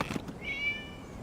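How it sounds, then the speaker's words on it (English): A cat in Genshin Impact gives a single short meow, fairly quiet, preceded by a couple of soft clicks. "It was just a cat."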